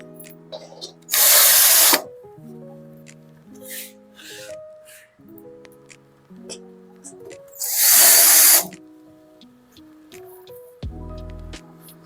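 A power drill drives screws into a baby blue steel drawer cabinet in two short, loud bursts, with quiet speech and soft handling noises in between.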